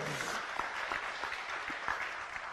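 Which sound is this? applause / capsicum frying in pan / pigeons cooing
applause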